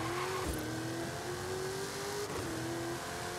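Lamborghini Sian racing in Forza Horizon 5, a continuous loud engine drone holding a steady high pitch with slight rises and shifts as it speeds along, no voices over it.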